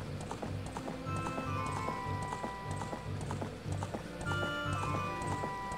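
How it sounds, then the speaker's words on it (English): Horse hooves clop in a steady galloping rhythm, loud and close, over a busy layer of game music in Ocarina of Time. "I gotta back my horse in."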